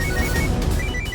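A mobile phone rings during a Hindi TV drama scene: a brief, steady electronic ringtone with repeated high tonal beeps over a dense, busy background.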